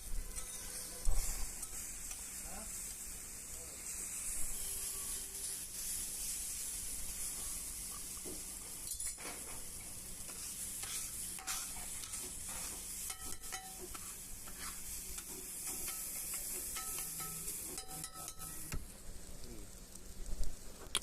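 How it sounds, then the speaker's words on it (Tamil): Brinjal and egg poriyal fries in a pan with a steady, soft sizzle and hiss throughout, broken by occasional scraping and tapping of a spoon as the mixture is stirred. "நல்லா ஃபுல்லாக நல்லா கிண்டி விட்டு நல்லா வேக வச்சு எடுத்தாலே போதும்"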